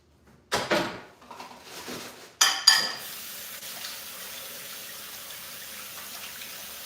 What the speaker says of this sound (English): I'm just gonna take these dishes away